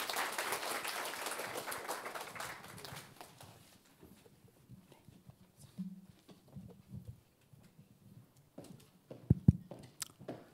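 A corporate job-talk audience claps briefly and fairly loudly, then the applause fades within a few seconds into quiet room noise with scattered small thumps.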